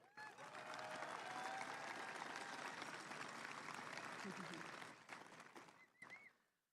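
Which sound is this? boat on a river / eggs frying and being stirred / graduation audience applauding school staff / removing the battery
graduation audience applauding school staff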